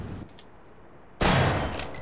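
Gunfire in Half-Life erupts suddenly after a quiet pause, a loud dense burst of rapid shots that carries on to the end.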